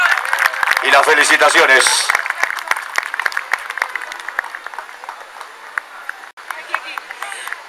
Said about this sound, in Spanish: El aplauso de todos ustedes.